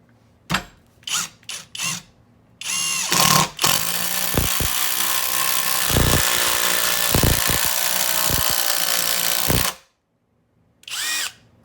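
A Skil PWRCore 12V brushless impact driver set to high drives a 3-inch Torx 25 screw. Short bursts come first, then a long loud hammering run of about six seconds, with a final brief burst after a pause.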